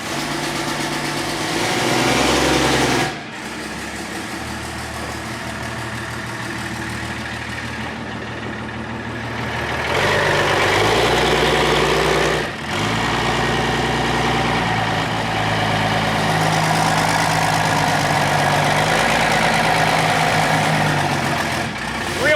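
A rowdy Chevrolet S10 drag truck engine runs loud and close for the whole stretch, a steady rumbling idle with revs that swell and then drop back. The engine tone shifts and dips sharply around three seconds and again near twelve seconds, with no talk over it.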